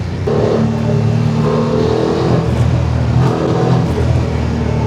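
A 2024 BMW F750 GS motorcycle with an Akrapovic exhaust that keeps its resonator revs up and down in a few rising and falling pulls, a fairly subdued, muffled engine note heard up close.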